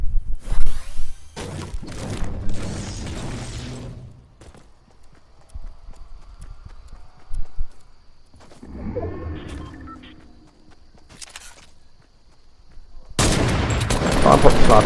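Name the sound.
gunfire and a sniper shot in Fortnite, a video game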